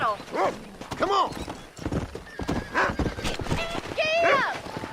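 Horse hooves clop and a horse neighs and whinnies while herding cattle in the video game Red Dead Redemption, with character voices talking over the animal sounds throughout.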